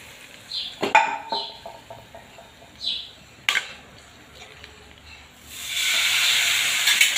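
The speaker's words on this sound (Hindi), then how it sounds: "दाल को मैंने गैस पे वापस रख दिया है और ये तड़का मैं डाल रही हूँ।" Tempering poured into Hyderabadi khatti toor dal sizzles up into a broad, steady hiss near the end, after a few scattered clinks of utensils and faint chirps in a quiet kitchen.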